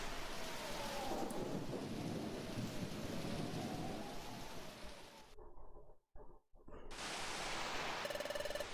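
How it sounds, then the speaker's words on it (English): Steady rain with rolling thunder from a thunderstorm in the Pokémon Mystery Dungeon: Explorers of Sky video game, a loud continuous wash that drops out briefly near the end before returning, with a soft tonal chime at the close. "Sounds like a storm is approaching."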